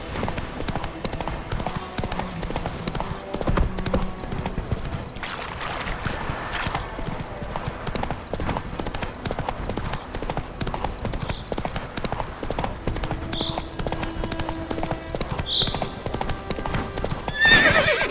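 Roach the horse in Witcher 3 walks with steady clip-clopping hooves and gives a clear whinny. The sound is moderately close and sits over ambient game sound, with faint speech in places.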